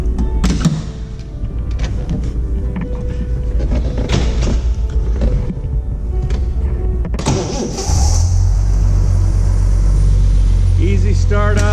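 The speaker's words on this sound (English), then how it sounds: "Let me make sure this car is in neutral and I'll start it up." A 1974 Triumph TR6 engine cranks and catches near the end, settling into a steady low idle rumble after a stretch of background noise and clatter.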